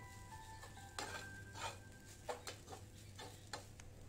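Rice for chicken fried rice is stirred and broken up in a pan, with soft scraping and scattered light clinks of a utensil against the pan over a faint background hum, quiet and close.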